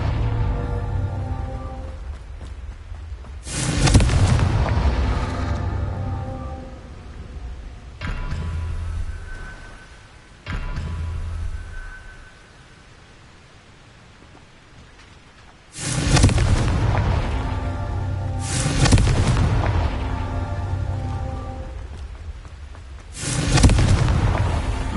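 Fire-spell explosions boom repeatedly in the game Hogwarts Legacy, loud bursts with rumbling tails arriving every few seconds among background game noise and music, with no talking.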